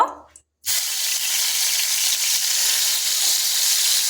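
Tomatoes drop into hot mustard oil, and after a brief hush a loud, hissing sizzle erupts and holds steady and close.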